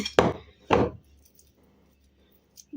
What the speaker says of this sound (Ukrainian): Роблю по бокам звичайні такі надрізи